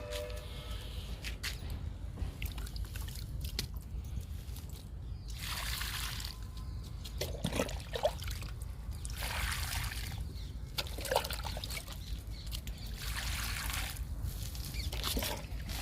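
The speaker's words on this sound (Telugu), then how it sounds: "ఈ మూడు రకాల మొక్కలకి వాటర్ ఇచ్చేద్దాము" Water trickles and splashes in uneven bursts onto brinjal, chili and tomato plants in a garden against a steady outdoor background, with short pauses between the pours.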